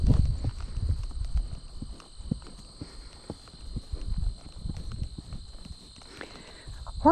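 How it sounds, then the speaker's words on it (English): A horse walks on a hard surface, its hooves clip-clopping in an irregular, moderately close rhythm over a steady high-pitched background hum. "Horses are spooky by nature."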